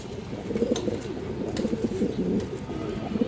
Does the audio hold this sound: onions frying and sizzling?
no